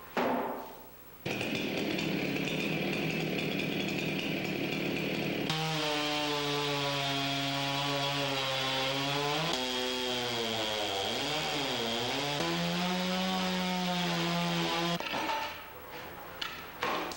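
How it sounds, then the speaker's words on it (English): A chainsaw cuts a log down to its maximum outside diameter for an HMCS Barrie model, the engine droning loud and continuous, its pitch rising and falling as the bar bites into the wood, idling briefly at the start and end. "a chainsaw was needed to cut the log down to its maximum outside diameter"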